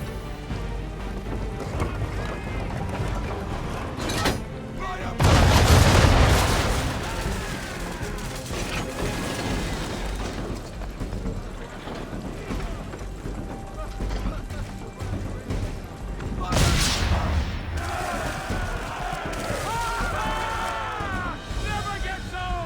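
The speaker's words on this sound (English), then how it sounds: "Now give the swivel guns a turn. More precise. Hit those old powder barrels and light up the sky." Swivel guns on a ship firing at powder barrels in Assassin's Creed 3, two loud booming blasts with explosions a few seconds apart over steady sea and rain ambience.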